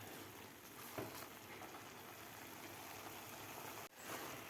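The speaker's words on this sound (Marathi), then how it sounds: "दूध आटेपर्यंत आपल्याला हा गाजराचा किस परतून घ्यायचा आहे." Grated carrot sautéing in milk over medium gas for carrot halwa gives a steady, soft sizzle and bubbling hiss that runs unbroken throughout, with a brief dip near the end.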